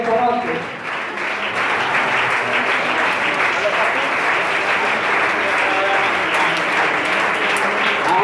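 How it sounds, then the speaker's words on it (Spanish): A congregation claps warmly for a prayer promoter at a church missions event in Amazonas, the applause sustained and crowd-like, with speech running over it. "Un aplauso para ella de corazón."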